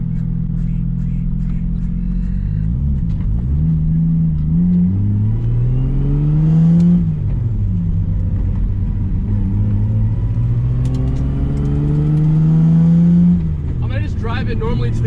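A car with a Toyota 2JZ engine drives along and revs, its loud close exhaust note climbing and falling through gears in repeated sweeps, with a voice speaking over the engine.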